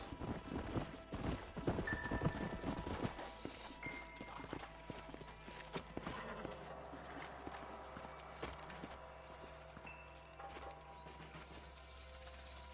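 Horse hooves clip-clop in a quick, busy rhythm in the video game Red Dead Redemption Remastered, then fade off, leaving a low steady hum and faint ambient noise.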